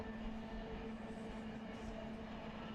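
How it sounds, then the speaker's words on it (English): Train engines idling in a rail yard in a railroad simulator game, a steady low mechanical drone with a constant tonal hum, held at an even level throughout. "we have a train that came in. We have an engine."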